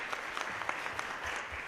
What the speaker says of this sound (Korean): 우리 다시 한번 박수로 맞이해 주시기 바랍니다